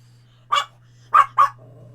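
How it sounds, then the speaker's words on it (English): A small dog barks three loud, sharp times, one bark followed by a quick pair, against a steady low hum, with a faint murmur trailing after. "he's so small and he has such a loud bark"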